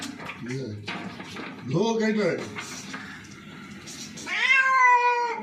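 A distressed cat meows several times, with drawn-out, wavering cries rising and falling, the last one loudest and longest; background voices and faint clatter sit underneath between the calls.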